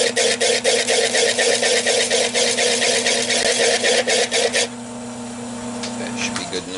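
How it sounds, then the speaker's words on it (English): A woodturning tool scrapes the bottom of a spinning rimmed wooden bowl on a lathe, giving a steady close rasping scrape with rhythmic pulses that stops partway, leaving the lathe's motor hum running on its own. "I'm going to scrape that bottom a little bit and get that cleaned up."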